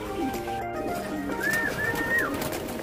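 Pigeons in a loft coo softly and repeatedly against a steady hum of background noise, with a few brief higher calls rising over the low murmur.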